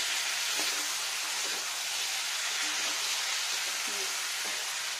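Potatoes and vegetables being stirred in a hot pan with hot water for a vegetarian capsicum paneer dish, a steady soft sizzle with faint scraping of the spoon.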